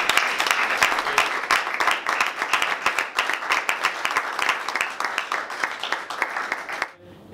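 Applause from the audience at the Sicilia Queer 2017 award ceremony for the Nino Gennaro prize, with dense steady clapping filling the room for about seven seconds before it stops abruptly at the end.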